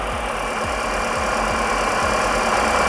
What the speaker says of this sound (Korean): 굉장히 일정한 엔진 소리를 들려주고 있는 차량입니다